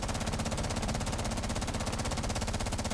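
Rapid automatic gunfire from a Rainbow Six Siege shooting range with infinite ammo, a continuous stream of closely spaced shots with no reload pause, loud and steady from start to finish.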